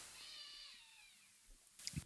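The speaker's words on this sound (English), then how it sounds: "was that a cat? Did you hear that?" A cat's short meow rings out abruptly at the very end, loud and close, after a stretch of quiet room tone.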